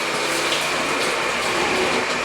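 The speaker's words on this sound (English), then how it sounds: "I heard water." Water runs through pipes tied into a floor at a building site where concrete is being poured, giving a steady, dense rushing hiss that holds at an even level throughout.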